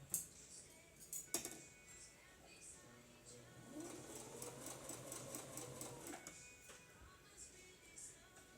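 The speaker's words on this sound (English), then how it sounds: "go back to the sewing machine and sew it right close to the edge all the way down" A sewing machine stitching close to the edge of a prayer quilt runs in a quick, even burst for a few seconds, preceded and followed by light clicks and handling sounds at close range.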